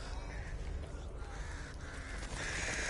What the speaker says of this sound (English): Scare the birds.